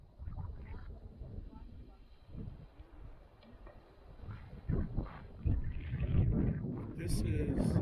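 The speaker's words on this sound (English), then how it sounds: "it's a very windy day." Strong gusting wind at Cathedral Gorge, Nevada, buffeting the microphone in rough, uneven bursts that grow louder toward the end, with a voice speaking underneath.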